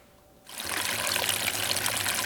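Coconut water is poured down a sink drain, starting after a brief quiet moment as a loud, steady splashing trickle that runs continuously to the end.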